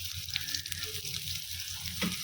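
Steady close sizzling of finely chopped onions frying in a hot pan until golden brown, with a faint scrape of stirring.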